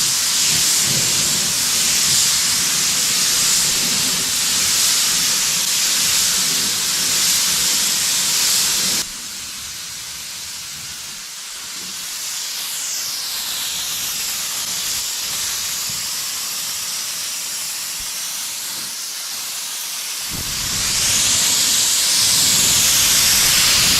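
Spray gun laying another coat of paint on an OBS Chevy truck, a loud steady hiss that cuts back briefly to quieter passes and then resumes at full strength, close and without talk.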